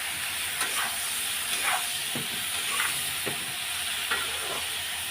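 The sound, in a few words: capsicum and onion frying in pan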